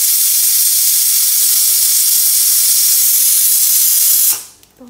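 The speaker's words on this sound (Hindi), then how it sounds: "2 सीटियाँ जो हम इसे कुकर में करवा लेंगे।" A loud, steady high-pitched whistle of steam venting from a pressure cooker cooking dal, running continuously for several seconds before abruptly cutting off.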